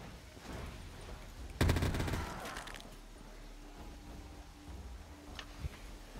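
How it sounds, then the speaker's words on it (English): Machine-gun fire in Black Ops 3 Zombies on a custom zombie map, a short rapid burst of shots standing out over quiet game ambience, followed by faint tones. "Not me shooting a whole clip at one zombie."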